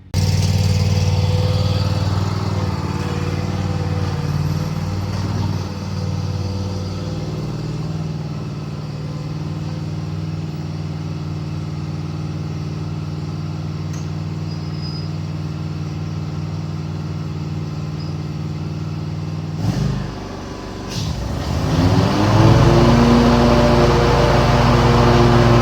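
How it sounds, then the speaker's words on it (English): A brand new 2025 Ferris FW45 walk-behind lawn mower fitted with a grass flap runs steadily and loud up close, its engine droning evenly before a brief dip and a surge as it bogs and picks up load. "This is a brand new 2025 Ferris FW45 with a garbage goat, stripe kit, and Velcro installed, and a grass flap"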